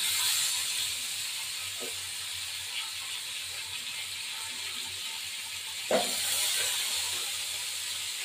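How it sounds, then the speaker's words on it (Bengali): Tomato frying in a pan of oil with nigella seeds gives a steady, moderate hiss throughout, broken by a couple of soft utensil knocks, one near the end. "দিয়ে এবার টমেটোকে ভাজাবো, আর একটা টমেটো দিয়ে দেবো।"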